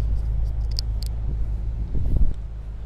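A 2018 BMW M6 Gran Coupe engine idles from behind the car, a steady deep low rumble holding for about three seconds with a slight swell near the end and no talking.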